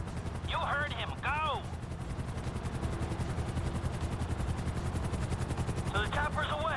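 Helicopter in a video game heist mission, a steady rotor drone under sustained gunfire, with bursts of sharp descending tones near the start and end.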